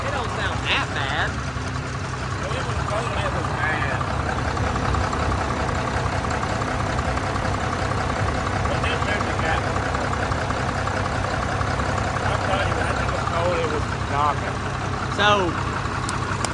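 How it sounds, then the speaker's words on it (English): A pickup truck with a G56 transmission, its engine believed to be on its way out, idles at a truck show with a steady, even rumble that continues throughout, while people talk nearby. "Alright, this is Lane's truck"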